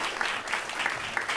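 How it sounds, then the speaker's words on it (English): An audience at a farmland protection panel claps for a farm panelist, a brief burst of dense applause, moderately loud and fairly even. "Round of applause"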